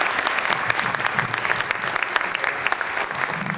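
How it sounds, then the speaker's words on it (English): A university speaker-series crowd at James Madison University in Harrisonburg welcomes the Surgeon General with loud, continuous applause, with many hands clapping evenly throughout. "with a round of applause."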